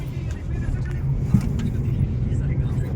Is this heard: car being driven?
yes